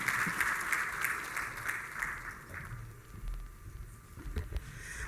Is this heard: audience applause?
yes